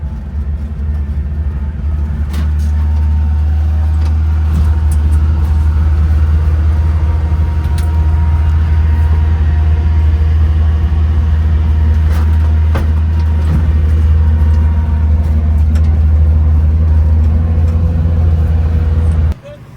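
A Chevrolet Corvair drives along in second gear with a steady, loud, close engine drone and rumble throughout, and faint rattles over it.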